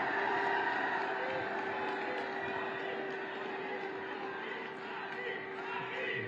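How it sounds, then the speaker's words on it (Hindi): Large outdoor crowd at a political rally applauding and cheering together, a dense continuous wash of clapping and voices held at steady volume throughout. "आप सबकी जोरदार तालियों के साथ"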